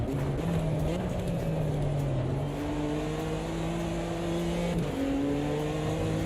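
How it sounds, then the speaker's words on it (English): Race car engine in Automobilista 2 (Duratec Turbo) roars steadily at close range, its pitch wavering and stepping as the car bounces over curbs and the suspension compresses, with a brief dip near the end. "when you bounce over a curb like that and you get that engine noise reacting to the compression on the suspension"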